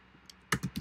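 Keys clatter on a computer keyboard while code is typed for a CSS front-end example: three or four quick, close keystrokes arrive in a short burst after a near-silent start, with no talking.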